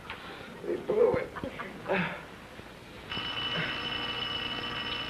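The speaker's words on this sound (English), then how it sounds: "Oh, he's calling back. The phone." A telephone in the 1967 TV sitcom He & She starts ringing partway through with a sustained, bright electric ring, after a few short bursts of voices.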